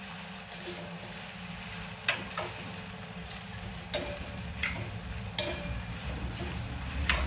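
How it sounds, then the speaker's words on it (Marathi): Dried Bombay duck fish fry until crisp in extra oil for pickle, making a faint, steady sizzle. A few light clicks and ticks are scattered through it, and no voices are heard. "आणि आता हे खरपूस करून घेते म्हणून थोडंसं जास्तीच तेल टाकलेलं आहे"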